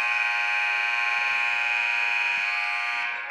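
A basketball game-ending buzzer at a high school game sounds as one loud, continuous harsh electronic tone held for several seconds before cutting off, with faint crowd noise beneath.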